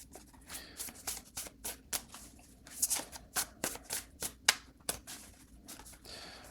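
Tarot cards being shuffled by hand, a run of quick papery riffles and flicks in uneven bursts, close and fairly quiet, with no talking.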